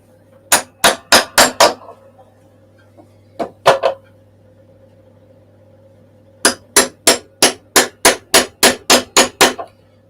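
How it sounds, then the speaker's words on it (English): A giant hammer strikes hard and close in quick bursts, a run of about five blows, two isolated hits, then a steady series of about ten ringing whacks. "Look at this giant hammer."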